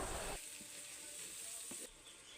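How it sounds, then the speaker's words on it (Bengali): Onions and green chillies sauté in hot oil for a spicy fish roe curry, a steady close sizzle with a brief louder burst as ingredients go in, then a quieter crackle. "তো এখানে আমি পরিমাণ মতো তেল দিয়ে 1 কাপ পরিমাণ মতো পেঁয়াজ দিব, কাঁচামরিচ দিব পরিমাণ মতো, দিয়ে ভালো করে কষিয়ে নিব"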